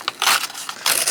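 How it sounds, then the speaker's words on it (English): Coffee maker in self-cleaning mode letting out loud bursts of hissing, gurgling steam and crackle, rising and falling in short surges close by. "I'm sorry for the noise. That's the coffee maker."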